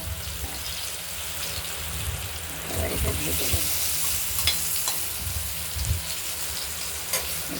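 Tilapia fish seasoned with turmeric and salt frying in a covered pan, a continuous close crackling sizzle with bursts of spitting oil throughout.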